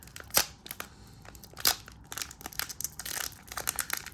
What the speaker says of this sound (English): So let's rip this thing open.